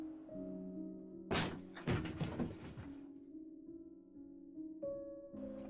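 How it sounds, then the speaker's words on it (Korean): Two loud thumping bangs, like a door being struck, over a low droning hum in a quiet room. "쾅쾅거리는 그 소리는 마치 문을 발로 걷어차는 것 같은 소리였다."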